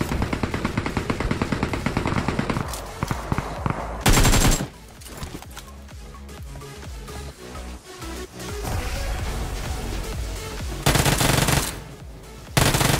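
Rapid automatic gunfire in BGMI, the mobile battle royale game, rattles almost continuously and close up, with louder bursts breaking through a dense stream of shots and game effects.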